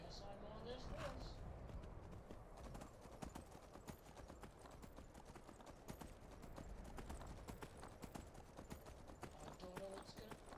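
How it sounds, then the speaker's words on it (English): Steady clip-clop of horse hooves in the game Skyrim, a regular rhythmic clatter of footfalls at moderate volume continuing throughout, with someone talking over it. "Can I even get on this horse?"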